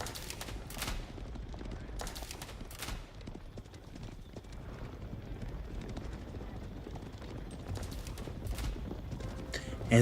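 Horse archers riding in a strategy video game, a continuous clatter of many hooves with scattered sharp battle noises on top, under commentary talk throughout.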